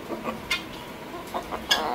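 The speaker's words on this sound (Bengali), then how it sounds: "এই যে পিসির মুরগিগুলো আসলে অনেক বেশি চিল্লাচিল্লি করে" Farm hens cluck in short, sharp bursts, several loud calls spaced irregularly over a noisy background of other poultry.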